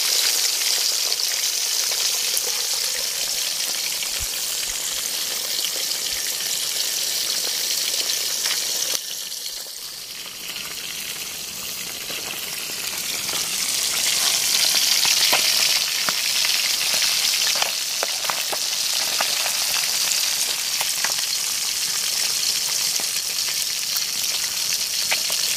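Fish sizzling and frying in a pan at an overnight campsite in a forest, a steady loud hiss that dips briefly midway then swells again, with faint stirring and no talk.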